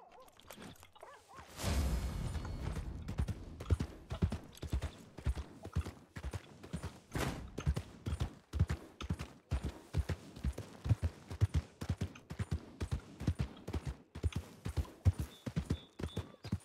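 Horse hooves clip-clop steadily in RedM, a rapid, regular trotting or galloping rhythm that starts after a quiet opening and runs continuously, close and fairly loud, with an occasional whoosh.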